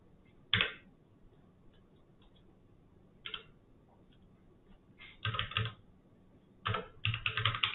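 Typing on a computer keyboard, heard as short separate bursts of keystrokes with quiet gaps between them, then quicker clusters of clacking near the end, close and fairly quiet, with no voices.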